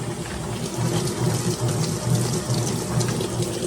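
A GE washer pumps water down the drain, a steady rushing, gurgling flow with a low pulsing hum, continuous and fairly close.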